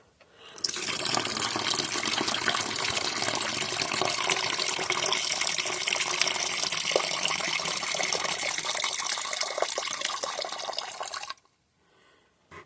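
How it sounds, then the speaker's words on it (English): Two-cycle fuel gushes steadily out of the crankcase of an antique McCulloch generator that had sat in a flooded basement, a continuous loud liquid pour lasting about eleven seconds before it suddenly stops, with no talking. "I poured some of that down in the crankcase and sloshed it around for a little while, and we're going to drain that now"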